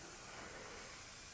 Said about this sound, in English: So all I'm going to do is just start spraying.